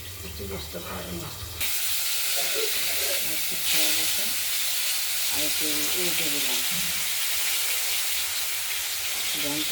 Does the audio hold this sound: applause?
no